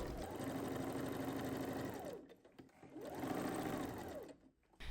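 A sewing machine stitches elastic channels along half-inch markings on a dress bodice. It runs in two bursts, a fast whirring hum that winds up, holds, then slows to a stop, with a brief quiet gap between them.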